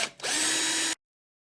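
A power driver spins out small servo screws on a crashed ALZRC Fast Devil 380 RC helicopter, one short steady whir lasting under a second, then silence.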